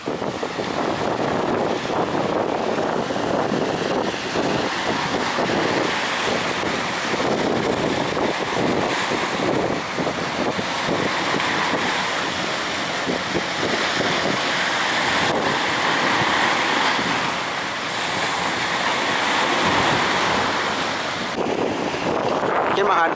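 A Phú Thành barge of a few dozen tonnes runs out to sea, with a continuous roar of wind and waves close to the microphone and occasional faint speech beneath it.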